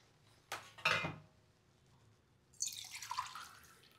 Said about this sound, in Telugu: ఇప్పుడు వాటర్ మనం పోసుకుందాం